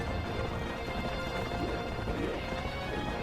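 Hooves clip-clop at a gallop in The Legend of Zelda: Twilight Princess HD, a dense continuous pounding layered under steady game noise throughout.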